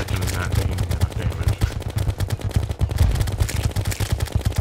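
Rapid gunfire in Terraria during a fight against pirates, a loud, dense stream of overlapping shots and impacts with a brief voice mixed in.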